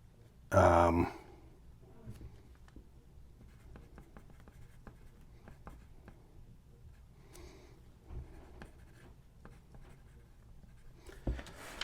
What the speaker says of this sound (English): let me write it this way.